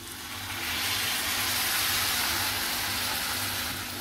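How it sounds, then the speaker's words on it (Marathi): A splash of water hits masala brinjals frying in a hot pan and raises a loud, rushing hiss of steam and sizzle that swells quickly and holds for several seconds. "थोडंसं पाणी घालायचं आहे आपल्याला."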